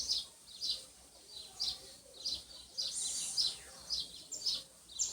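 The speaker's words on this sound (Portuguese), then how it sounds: "Escuta o canto dos pássaros, ó." Birds sing outdoors under an open sky, a series of short, bright chirps repeating every half second or so, fairly close and clear over a quiet background.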